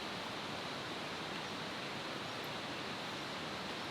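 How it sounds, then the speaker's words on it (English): A river flows beside a camp in a steady, even rushing wash that carries on alone without any voices. "The sound of the river"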